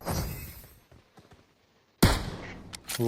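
Gunfire in the video game PUBG: a loud burst at the start, then quiet, then another sharp volley of shots and closing cracks, close and harsh.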